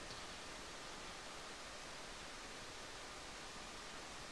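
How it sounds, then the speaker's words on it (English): A computer fan runs right beside the microphone, making a steady, even hiss of broadband noise with no change in level. No speech. "that's a computer fan or something running right next to the microphone"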